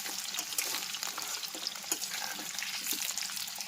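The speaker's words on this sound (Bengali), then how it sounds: "আমি নাড়ছি" Mutton and onions sizzle and hiss in a pan while being stirred, a continuous close frying crackle with occasional scraping and clinking accents.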